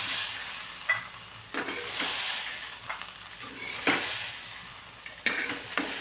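Green mung beans dry roasting in a pan give a soft, steady hiss, with scraping stirs and brief clatters every second or so, close and quiet, with no talking.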